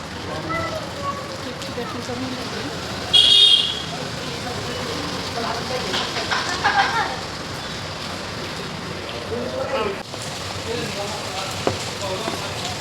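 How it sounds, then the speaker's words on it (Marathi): Heavy rain pours down steadily in a dense, hissing wash, with a few brief louder bursts rising over the constant downpour. "पाऊस जोरात चालू झाला आहे."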